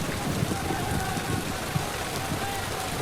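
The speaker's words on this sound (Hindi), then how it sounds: "बारिश आ गई।" Steady rain falls on a surface in a continuous hiss, with faint voices underneath.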